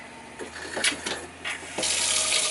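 Water gushes from a tap in a home with a water pump system, starting after a few clicks and handling sounds and then running loud and steady to the end, with no talking.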